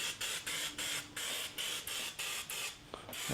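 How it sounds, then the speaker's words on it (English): A pump-up sprayer sends out rhythmic bursts of oil mist onto grilled chicken, with about ten short even hissing puffs in quick, regular succession, close and fairly quiet. "This is a pump-up sprayer, and it's designed to hold liquids, and you can spray them just like any aerosol sprayer would."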